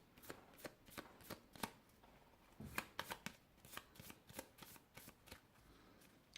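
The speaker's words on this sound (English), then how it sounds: "Let's shuffle these cards." Playing cards being shuffled: a quiet run of crisp riffles and snaps in an irregular rhythm, close up, with no talking.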